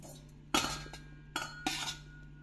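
Green chillies and amla being mixed together in a bowl for pickle, a few close clinks and scrapes of a utensil against the dish separated by quiet pauses.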